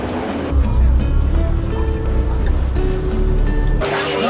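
Boat crossing a wide river in Bangkok, a loud low motor rumble mixed with rushing water and wind noise heard up close, with brief talk among passengers.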